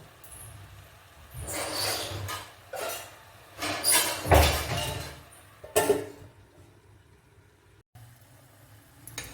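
A lid set onto a cooking pot holding gongura leaves, giving a few scattered metallic clinks and clatters at close range, with the loudest knock around the middle and quieter handling noises on either side.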